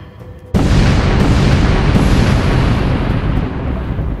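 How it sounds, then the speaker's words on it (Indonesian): A punch landing with an explosive blast: a sudden loud boom bursts in after a brief quiet start, then a dense rumbling roar sustains and slowly fades over several seconds. "Ledakan terjadi dimanapun ada yang terkena tinju Dam Ho."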